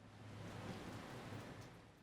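Rain falls outside as a steady, dense, even hiss with a low rumbling undertone, faint and continuous throughout.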